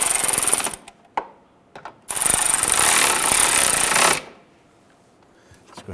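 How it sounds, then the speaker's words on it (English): A power tool whirs in two loud bursts, short then longer, snugging down the lower bolts on a windshield washer reservoir of a 1999-2004 Jeep Grand Cherokee, with quiet clicks between. "snug down your two lower bolts, doing the same process"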